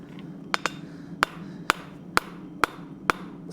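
A hammer strikes a steel candy cane on an anvil during hand forging: about eight bright, ringing blows at a steady, unhurried pace over a faint background hum.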